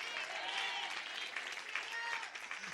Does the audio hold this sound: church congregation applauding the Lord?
yes